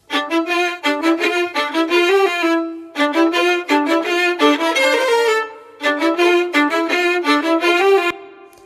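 Bowed violins play a lively phrase of short, rhythmic notes with an Austrian Concert Hall reverb that softly rings out between phrases.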